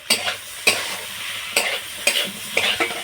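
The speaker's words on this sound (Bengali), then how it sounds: "সবজির সঙ্গে একটু এইভাবে ভাজা ভাজা করে নেব।" Boiled pasta stir-fried with vegetables in a pan, a steady sizzle broken by regular scraping strokes of a spatula about every half second, close and fairly loud.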